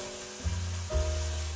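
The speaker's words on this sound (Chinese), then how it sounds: "倒入丝瓜，翻炒均匀后加入1勺食盐" Loofah is stir-fried in a wok with a little cooking oil, scallion, ginger and garlic. Close, steady sizzling swells as the pieces are tossed, with a low hum underneath and no talking.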